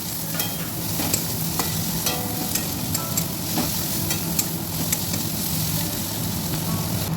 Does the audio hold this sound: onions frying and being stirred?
yes